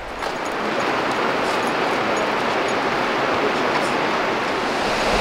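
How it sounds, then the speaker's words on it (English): The South Fork of the West Fork of the Gallatin River rushing in a steady, loud, unbroken wash of flowing water heard up close, with no voices over it. "This is the South Fork of the West Fork of the Gallatin River."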